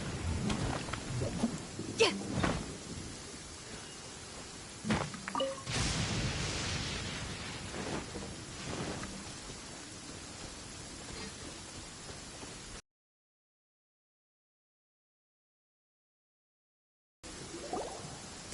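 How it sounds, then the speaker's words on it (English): Steady rainfall in the video game Genshin Impact, a continuous broadband hiss with a few louder bursts, cutting out briefly before resuming. "This rain ain't clearing anytime soon"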